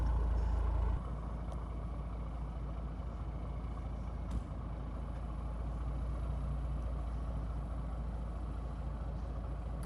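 A Peterbilt 379 truck rolls along an icy winter road, its engine giving a steady, loud low rumble throughout, with a sharp thump near the start and another around the middle.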